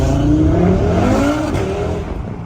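A loud Ford Mustang engine revs and roars up close, its pitch climbing and sliding as it accelerates, then easing slightly.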